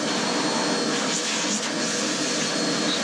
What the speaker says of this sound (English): I'm going to get my vacuum vacuum out all the dirt I can actually see here